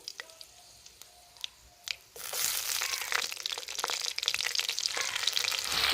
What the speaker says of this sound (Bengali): এই তেলের মধ্যে আমি আবারও একটু তেল দিয়ে দেবো কাঁচা লঙ্কা আর আদা ফোড়ন দিয়ে দেবো